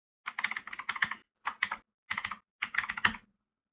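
Someone types on a computer keyboard in a quiet room, with four short bursts of rapid, crisp keystrokes separated by brief pauses.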